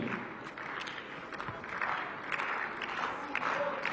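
A tennis crowd at a Zagreb match claps and cheers in a scattered, rising burst of applause to urge on their player, heard from a distance with indistinct voices mixed in.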